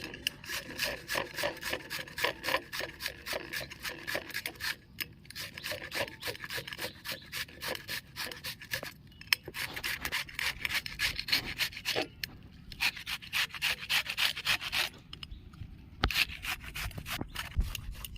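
A peeled raw green mango is rubbed against a grater in quick, rhythmic rasping strokes, close and steady with brief pauses, and no voices present.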